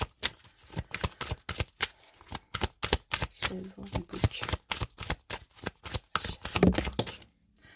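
Oracle cards shuffled by hand during a card reading, a rapid, steady series of close, crisp riffles and slaps lasting several seconds.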